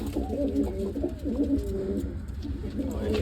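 Pigeons coo in low, throaty repeated phrases, several birds close by, one seemingly sick, with a steady low rumble underneath.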